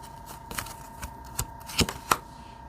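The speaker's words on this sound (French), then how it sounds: "je vais mettre une autre carte." Tarot cards handled and shuffled at a table, a few soft papery riffles and flicks spaced unevenly, close and fairly quiet with a faint steady hum behind.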